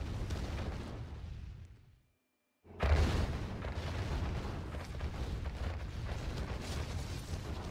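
A base being destroyed in a Red Alert match rumbles with loud explosions, with a sudden silent gap before a heavy blast and continuing dense rumbling destruction.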